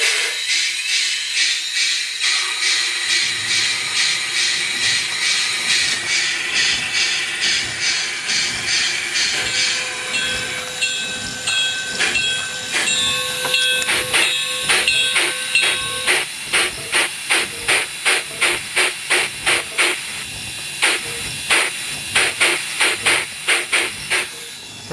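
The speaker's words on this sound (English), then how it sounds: "the unevenness in the chuff I know is due to me doing it by hand" A large-scale model steam locomotive sound unit chuffs steadily on its own, the beats worked by hand and slightly uneven, with a constant steamy hiss and a few whistle-like tones, the exhaust quickening toward the end.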